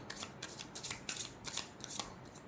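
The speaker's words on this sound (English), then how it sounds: "We'll pull one last card from here." Tarot cards being pulled and shuffled from a deck, giving a quick run of crisp papery riffles and flicks, close and fairly soft.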